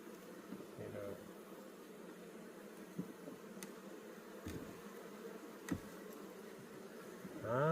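Honeybees fly back and forth between two stacked hive boxes in autumn, making a steady low buzz that stays fairly faint, with a few brief louder passes close by.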